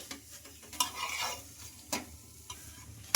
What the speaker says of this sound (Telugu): అటు ఇటు తిప్పుకుంటూ ఇంకా రెండు వైపులా బాగా కాల్చుకోవాలి